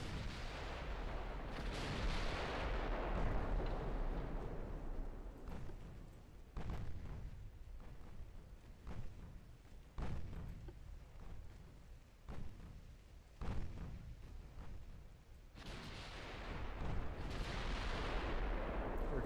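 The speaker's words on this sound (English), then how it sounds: "Some live fire training." Naval cannon fire from warships in Ultimate Admiral Dreadnoughts, heavy booming salvos that roll out into long rumbling decays, with one loud volley at the start, scattered sharper blasts through the middle and another big salvo near the end.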